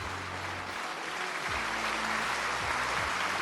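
Applause for a late-round NFL draft pick, a broad steady wash of clapping from a crowd heard at moderate volume throughout, with some low background hum.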